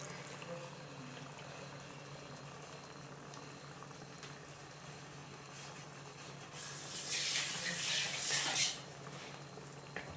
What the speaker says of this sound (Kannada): ನಮಗೆ ಎಷ್ಟು ಕ್ವಾಂಟಿಟಿ ಬೇಕೋ ಅಷ್ಟು ನೀರನ್ನ ಸೇರಿಸ್ಕೊಡೋಣ